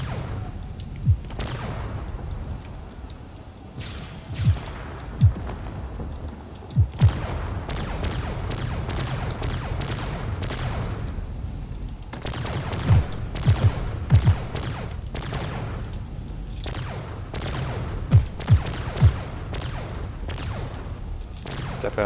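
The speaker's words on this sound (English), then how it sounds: "Definitely a lot of missiles being exchanged over here." Missiles and explosions trade back and forth in a space battle video game, with sharp bursts and booms recurring over a steady roar for about twenty seconds.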